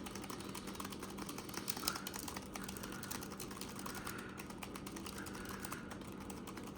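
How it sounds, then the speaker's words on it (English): Random letters are typed on a Bluetooth keyboard paired with a Viwoods AI Paper Reader, giving a quiet, rapid, continuous clatter of keystrokes with no talk. "I'll just randomly type letters, and you can see whether it's lagging or not."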